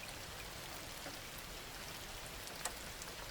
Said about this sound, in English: It was a night of steady drizzle, the kind of fine, persistent rain that wets to the bone